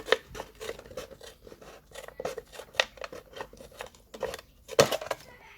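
Scissors snip through a plastic Coke bottle in a run of sharp, irregular cuts close by, with a louder crunching snip near the end and no talking.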